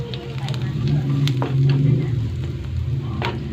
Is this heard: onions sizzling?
yes